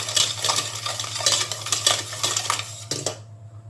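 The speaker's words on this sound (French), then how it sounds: "Et on va bien mélanger pour faire fondre le sucre." A spoon stirs cake batter briskly against a bowl to dissolve sugar for a lemon cake, making rapid, close scraping and clinking strokes in an irregular rhythm that stop abruptly at the end.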